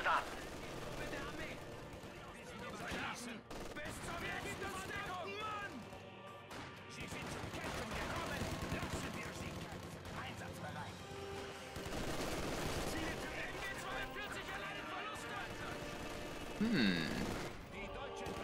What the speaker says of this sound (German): Wow, ist Artillerie.